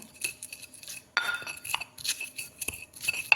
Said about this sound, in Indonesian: Kita ulek sampai halus teman-teman.